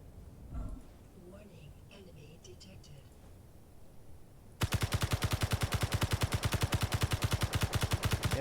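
Rapid automatic gunfire fired at a turret in Space Engineers bursts in after a quieter stretch, a loud, dense, even stream of shots that continues to the end.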